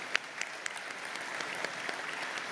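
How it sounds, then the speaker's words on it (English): A round of applause at an indoor awards banquet, steady even clapping from a seated audience that holds at a moderate level throughout, with a few sharper individual claps standing out. "So a little round of applause for them would be appropriate here."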